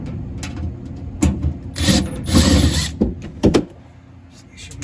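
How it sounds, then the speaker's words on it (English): Screws being removed from the back panel of an unplugged refrigerator during a temperature controller repair: a series of close, scraping, rasping turns and small metallic clicks in irregular bursts, with quiet pauses between. "Just pop out these screws holding this back panel in."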